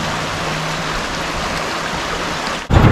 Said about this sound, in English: Here's the river again, guys.